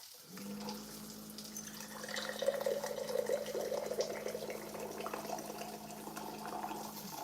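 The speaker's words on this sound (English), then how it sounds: "I have a hot water brewer right on the counter and I just press a button and it comes out" A countertop hot water brewer dispenses water into a jar at the press of a button, a steady low hum under a continuous trickling pour, faint and close, with no talking.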